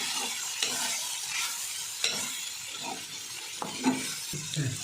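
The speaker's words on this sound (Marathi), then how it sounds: "आता चांगलं शेंगदाण्याचं कूट मिक्स करून घ्यायचं" Cowpea curry with crushed peanuts being stirred in a pan, a continuous close sizzle broken by several scraping spoon strokes against the metal, no voices.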